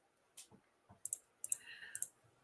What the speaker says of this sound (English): Let me just type this onto Twitter.